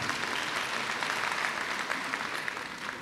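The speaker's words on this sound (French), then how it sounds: "Il mérite vos applaudissements." Audience at a textile-industry congress applauds steadily for about three seconds, a dense, even wash of clapping with a faint voice underneath.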